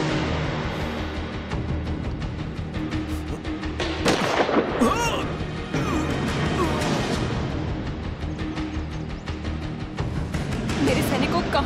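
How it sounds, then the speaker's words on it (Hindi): Dense gunfire crackles in a web series action scene: rapid overlapping shots and bursts, loud and close, with shouting voices mixed under the shooting. "आखिर ये गोलियां कहाँ से चल रही हैं?"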